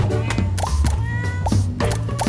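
Cartoon cats in the video game Fort Meow meowing repeatedly in short rising cries, several overlapping calls close and loud over a steady low game music bed.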